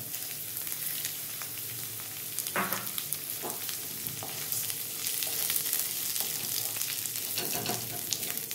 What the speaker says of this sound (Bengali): মুগ ডালটা একদম কম হিটে ভাজবো, নাহলে কিন্তু পুড়ে যাবে